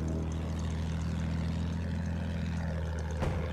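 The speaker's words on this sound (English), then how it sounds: "Another plane behind us." Steady, droning engine and propeller roar from a propeller plane in flight in a World War I combat video game over the Caporetto map, loud and unbroken throughout, with a brief crackle near the end and no talking.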